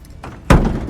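Sliding side door on a 2002-2006 T1N Sprinter van, just repaired, shuts with one loud, close thud after a quiet moment of faint handling noise.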